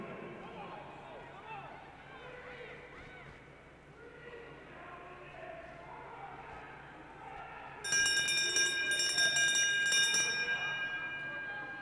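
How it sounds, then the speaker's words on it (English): A lap bell rings for the final lap at a long-track speed skating race at the US championships. Bright, repeated metallic ringing enters partway through and rises over steady arena noise and ongoing commentary. "It's Myers getting the bell with 1 lap to go."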